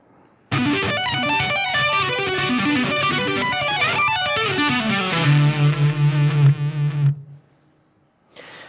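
Distorted electric guitar playing two combined arpeggio patterns from a lead solo, fast bright repeating notes for about seven seconds, settling into a sustained repeated low figure before stopping, with no talking.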